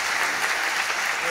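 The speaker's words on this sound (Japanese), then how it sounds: "大きな拍手お願いします" Steady, dense applause from a seated audience at a press conference marking the fourth anniversary of a Yoshimoto comedy theater, filling the room evenly without pause or voices.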